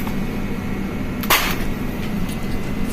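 A modern electric nail gun fires once with no nail loaded, giving a single sharp snap close by against a steady background hum.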